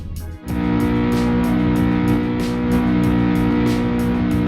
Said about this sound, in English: Pretty cool rev sound, isn't it?